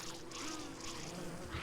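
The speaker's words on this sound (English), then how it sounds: "now the angry bees are running free" Angry bees buzzing in the video game Don't Starve, a steady swarming drone that carries through the whole short stretch at moderate level, with no talking.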